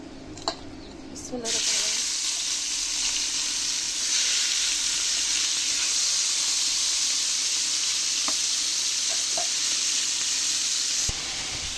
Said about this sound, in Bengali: মাছগুলো দিয়ে দেবো